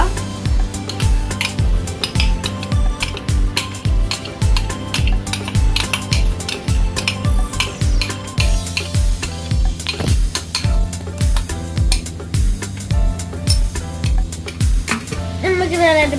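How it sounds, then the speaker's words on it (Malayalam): A spoon stirs chicken sandwich filling and mayonnaise in a bowl, making a steady rhythm of scraping strokes and light clinks against the bowl, close and continuous with no voices. "നമുക്ക് നല്ലതായിട്ട് മിക്സ് ചെയ്ത് കൊടുക്കാം."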